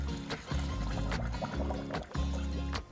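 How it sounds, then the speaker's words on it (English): Hot water being poured out of a pot of boiled eggs, a sloshing, gurgling pour in uneven bursts with brief splashes, close and moderately quiet. "pour out the hot water"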